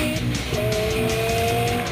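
A G-Power M5 Hurricane RS Touring engine roars loudly and continuously, its deep growl rising in pitch over a brief moment.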